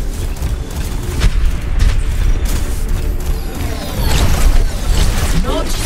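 Turret destroyed in a video game: a rumbling explosion with mechanical creaks and crackling debris under steady combat noise, with talk and radio-style announcements over it.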